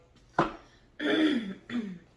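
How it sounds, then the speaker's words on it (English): Someone clears their throat close by, one short rasp followed by two longer, gravelly throat-clearing sounds with brief pauses between them. "sorry, I keep clearing my throat"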